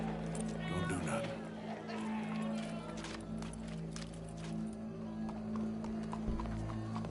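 Horse hooves clip-clop in Red Dead Redemption 2, a steady rhythmic clatter of several hoofbeats close by, with a low hum beneath and voices talking over them.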